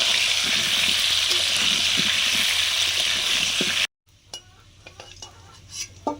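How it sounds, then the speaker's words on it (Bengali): Potatoes frying in a pan give a loud, even broadband sizzle for several seconds, then it cuts abruptly to a much quieter stretch of scattered clinks and light kitchen handling noises. "সাথে আলু ভাজছি"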